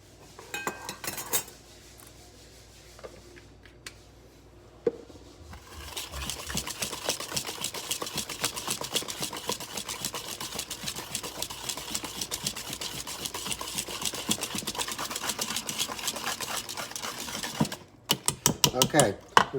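Vanilla extract being mixed into cookie dough in a bowl, a steady run of scraping, clattering mixing sounds, close and fairly loud, carrying on for most of the stretch after a few quieter knocks at the start.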